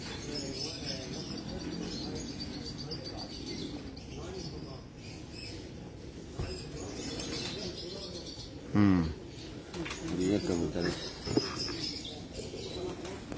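Pigeons cooing in a rooftop loft in Dubai, soft low coos and occasional chirps scattered under people talking nearby.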